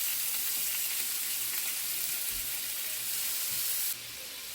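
Mexican-style hot dogs fry in a pan with a dense, steady sizzle throughout, close and loud, dropping slightly in level just before the end.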